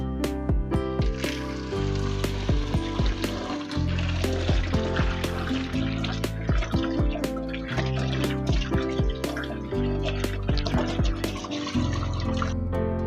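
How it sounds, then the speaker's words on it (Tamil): Tomatoes are rinsed by hand in water in an outdoor village kitchen, with repeated splashing, dripping and sloshing sounds, close and busy throughout with no talk. "ஃபர்ஸ்ட் தக்காளி பழத்தை நல்லா கழுவி எடுத்துக்கலாம்."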